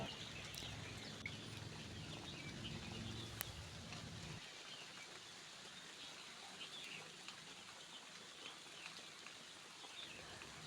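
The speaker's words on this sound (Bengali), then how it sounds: "বাইরে অনেক জোরেই বৃষ্টিটা হচ্ছিল" Heavy rain falling outside, a dense, steady hiss of drops that continues without pause, with a low rumble fading out partway through.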